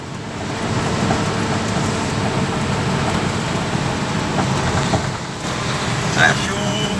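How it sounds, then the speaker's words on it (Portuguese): A van passing along a wet rural road on a rainy day, a steady wash of rain and tyre spray with a low engine rumble that swells slightly and fades. "A chuva, a vanzinha aqui, a vanzinha vai passando"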